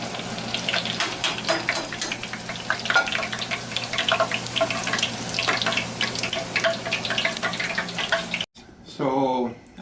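Homemade corn tortilla chips frying in hot oil, a few at a time, with steady bubbling sizzle and scattered crackles throughout, then a brief dropout and a final burst of sizzling near the end.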